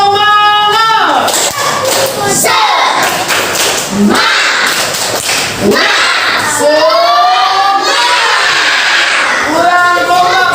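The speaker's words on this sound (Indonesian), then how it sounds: "Tepuk semangat." A group of children perform a rhythmic spirit clap during a school exercise session, with loud chanted voices and a few sharp claps and thumps in close succession.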